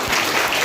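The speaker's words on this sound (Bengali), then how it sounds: "একবার জোরে হাততালি চাইবো ওনার জন্য" An audience at an art school's annual prize distribution applauding loudly, a dense burst of close clapping filling the short moment.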